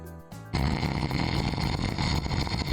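A voice imitates snoring, a loud rasping drone that kicks in abruptly after a brief quieter lead-in and then holds steady.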